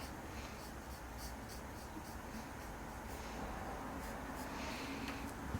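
A pencil sketches loosely on paper, drawing a rectangular body shape, a soft continuous scratchy rasp with repeated short strokes, close and fairly quiet with no talking.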